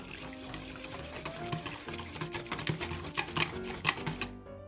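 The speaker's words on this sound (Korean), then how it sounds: "휘퍼 같은 걸 이용해서 계란과 물이 잘 섞일 수 있게 저어주시고요" Eggs and water whisked together in a bowl with a whisk, rapid rhythmic clicking and sloshing strokes close by, steady throughout with no voices.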